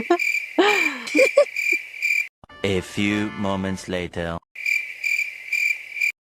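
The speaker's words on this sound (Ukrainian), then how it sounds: "А тут цвіркуни, будь ласка, вставте нам." Crickets chirp in a steady, continuous trill as a comic stand-in for awkward silence, dropping out while a narrator's voice speaks, then returning alone.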